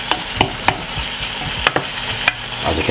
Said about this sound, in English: We're going to fry that vegetables in for roughly about 6 to 7 minutes